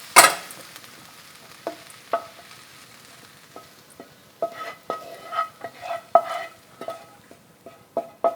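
Sausages frying in a pan give a soft sizzle while a spatula taps and scrapes against the pan surface, cutting them in a series of quick close clicks with no talking.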